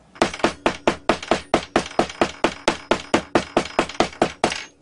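Clay hammered into a metal mould block for casting a silver ring, a steady series of about eighteen sharp, close, evenly spaced blows with no talking.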